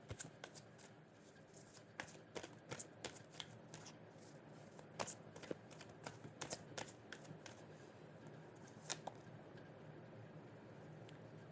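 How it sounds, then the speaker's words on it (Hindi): Tarot cards shuffled by hand, a soft but steady patter of papery flicks and taps up close, quiet and without talk for around eleven seconds. "जब तक मैं कार्ड शफल कर रही हूं आप सेकंड क्वेश्चन पूछिए।"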